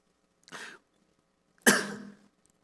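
Two coughing fits from a man who choked on water while preaching at a youth worship service, a short cough then a louder, longer harsh burst, close and with no talk.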